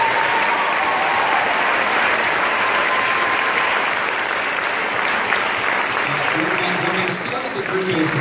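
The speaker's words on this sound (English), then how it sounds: "So can we have a round of applause?" A concert audience at a school pops ensemble's spring concert gives loud, sustained applause for the student players, a dense even roar of clapping. A speaker's voice starts up faintly near the end.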